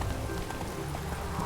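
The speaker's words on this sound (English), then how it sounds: "Man, why does it have to be rainy? There's literally a storm going around." Rain from a storm in The Witcher 3 video game hisses steadily as a dense, continuous wash, with faint horse hoof clops underneath.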